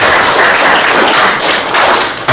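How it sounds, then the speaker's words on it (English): A crowd gives loud, sustained applause for a guest of honor at a ceremony launching the Oliver Reginald Tambo chair, many hands clapping at once in a thick, close, near-saturated roar. "a big applause to the guest of honor, please"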